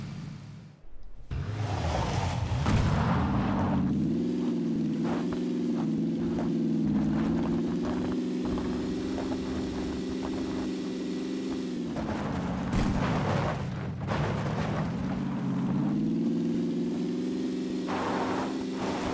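A Dacia car engine drones steadily while being driven in the video game PUBG, a loud sustained hum that rises and dips in pitch with acceleration, with a few sharp bangs over it.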